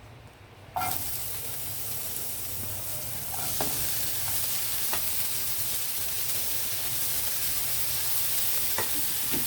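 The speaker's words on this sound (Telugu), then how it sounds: "అదే ప్యాన్లో మరలా కొంచెం మనం ఆయిల్ వేసుకుందాము ఇంకో గరిటె వేసాను ముందుగా ఉల్లిపాయలు వేద్దామండి" Onions drop into hot oil in a pan for a noodle dish, setting off a sudden, steady sizzle that continues throughout, with a few faint clinks of stirring and no voices.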